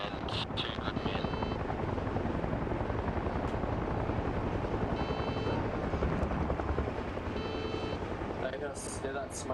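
Helicopter flying in the military video game Arma Reforger, a continuous loud rotor drone heard from inside, with a few brief sharp clicks and beeps over it.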